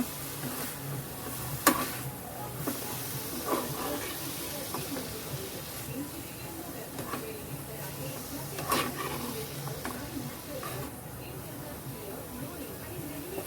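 A mixture with mixed herbs and black pepper sautéing in a pan, giving a steady hissing sizzle with occasional stirring scrapes, close by and continuous throughout.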